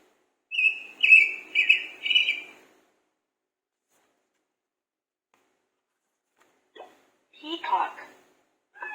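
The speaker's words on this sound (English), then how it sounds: "Bird." Electronic bird chirping from a children's animal flashcard learning device: four quick chirp bursts in a row, followed after a pause by a short voice.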